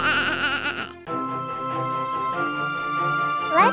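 A cartoon sheep bleats in a nursery-rhyme show, with a short bleat, then a long wavering bleat held for several seconds and a brief squeak at the end, all clear and close.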